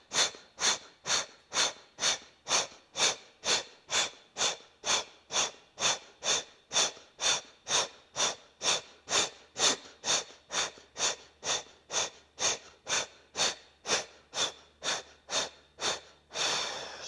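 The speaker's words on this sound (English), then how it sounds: "Now short, forceful exhales out through pursed lips." Short, forceful pranayama exhales pushed out through pursed lips during a cleansing breathing practice, close and loud in a steady rhythm of about thirty sharp puffs, alone without talk.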